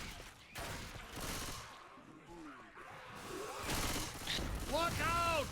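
Bursts of gunfire and booms in a Left 4 Dead style versus match, loud and overlapping in rapid volleys, heard under excited commentary voices.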